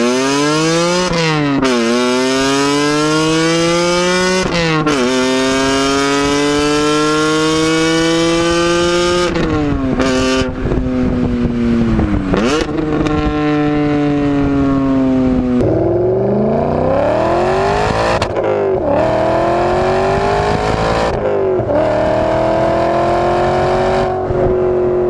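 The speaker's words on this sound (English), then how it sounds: "In the E39 M5, you've got a throaty V8." A BMW E39 M5 with a V8 engine revving hard through repeated climbs in pitch, a loud, throaty, continuous roar that drops briefly between rises.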